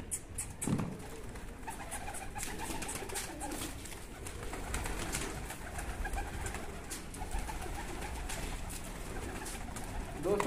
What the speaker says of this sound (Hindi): माशाल्लाह ये कबूतर छोड़े हैं अभी नीचे